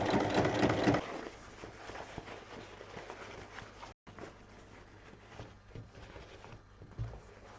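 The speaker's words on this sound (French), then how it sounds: "Et on pique les bases à 1 cm de chaque côté." A domestic sewing machine stitches the bases of a pressed-stud fabric basket 1 cm in from each side, running in steady bursts with a louder first second, a brief stop near the middle, then continuing more quietly.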